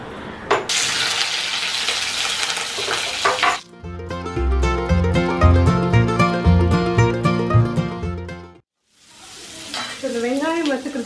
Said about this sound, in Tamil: ஸோ வெங்காயம் கடுகு போட்டு நல்லா வதக்கிடணும்.